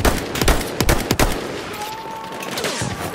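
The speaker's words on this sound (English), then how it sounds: "There's an enemy machine gun." Gunfire in the Battlefield 1 video game, a few sharp shots and short bursts early on, then a quieter stretch of distant battlefield noise with a faint whine.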